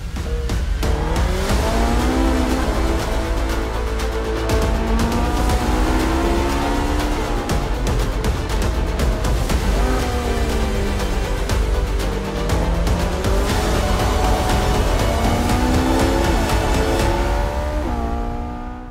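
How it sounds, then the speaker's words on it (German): Ferrari 458 Spider sports car engine running loud and steady throughout, with rising and falling revs and a sustained roar close by, no voices. "das ist der Ferrari 458 Spider"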